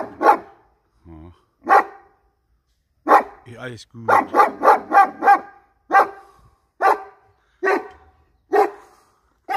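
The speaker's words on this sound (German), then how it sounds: "Hier ist der Hund. Oh, brauchst nicht zu bellen." Two dogs bark on a street of partly renovated houses in Nagymaros, Hungary, with a dozen or so loud, close barks in an irregular series. Someone speaks briefly between them.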